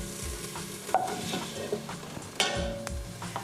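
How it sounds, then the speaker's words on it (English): Onion and garlic sauté in a pan for a beef stew, making a low, steady sizzle with occasional soft stirring scrapes and clinks, quiet and close, with no talking. "next I'm going to saute up the onion and garlic"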